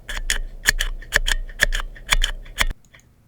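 Gateron Black linear mechanical keyboard switches typed in a switch sound test: about a dozen crisp clicky keystrokes in quick, uneven pairs, close and moderately loud, with a hard upstroke clack, ending in near silence.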